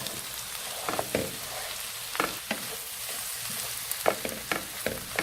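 Minced meat frying in a pan for Greek moussaka, a close, steady sizzle broken by repeated stirring scrapes and spatters at an uneven rhythm, with no one speaking.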